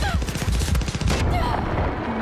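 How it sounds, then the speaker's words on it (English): Automatic gunfire in Far Cry 6, a fast close burst of rattling shots for about a second, then scattered distant pops, with a faint voice underneath. "I am really getting shot at right now."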